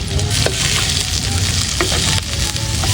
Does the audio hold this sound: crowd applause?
no